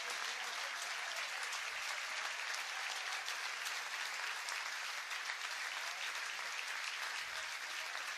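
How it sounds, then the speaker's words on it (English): Football stadium crowd at a St Mirren v Hamilton Academical match in May 2019 applauding in tribute during the 45th minute, a steady, sustained wall of clapping from thousands of fans throughout, with no voices standing out. "That's the applause in the 45th minute"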